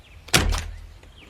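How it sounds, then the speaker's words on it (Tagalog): A wooden house door in a rural village is pushed open with a single solid thunk and a short rattle, close and loud, followed by quiet. "Soledad, ilang beses ba akong kakatok bago ka magbukas ng pintuan, ha?"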